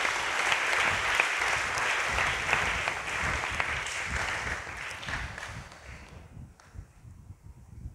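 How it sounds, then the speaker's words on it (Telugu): A church congregation at St. Anthony's claps in praise, sustained dense applause from many hands that fades out near the end. "గట్టిగా ఒకసారి దేవా దేవునికి చప్పట్లు కొట్టి దేవుని స్తుతించుకుందాం."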